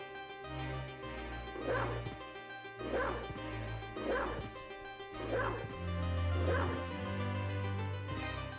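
A dog in a video game lets out five evenly spaced woofs over a steady looping game music bed, moderately loud with no talk.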